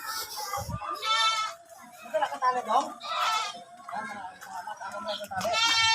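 Goats bleat loudly and close by, several wavering cries in a row, with people talking in between.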